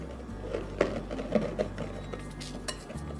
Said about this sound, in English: Now I'm going to just stir all of that together until it forms a dough.